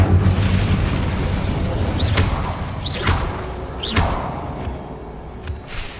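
A fire spell cast in the Hogwarts Legacy video game, heard as three successive whooshing bursts about a second apart, each with a rising flare over a low rumbling game backdrop.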